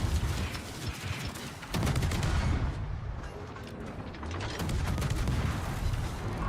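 Ship guns firing in a naval warships video game, a dense continuous rumble of booming salvos and rattling blasts, loud and sustained with surges of heavier fire.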